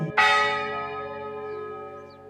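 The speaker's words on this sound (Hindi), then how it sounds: "सुबह स्कूल की पहली घंटी," A single loud school bell strike rings out and its bright metallic tone hangs, decaying slowly over a couple of seconds with no voices.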